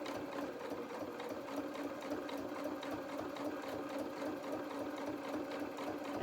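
A hand-crank sewing machine with a walking foot stitches felt for a doll's duffle coat, its needle ticking in a quick steady rhythm, fairly quiet and close, with no talking.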